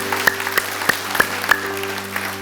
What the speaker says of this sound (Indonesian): Berikan tepuk tangan yang paling keras bagi Tuhan Yesus.